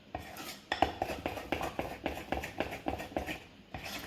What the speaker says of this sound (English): So just stir, stir, stir until this is completely smooth.